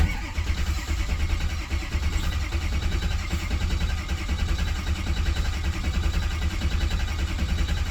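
A Ford 6.0 Power Stroke diesel engine, suspected faulty injection pressure control valve, cranks and runs loud and close, a steady heavy low rumble holding for the whole stretch with no voices over it.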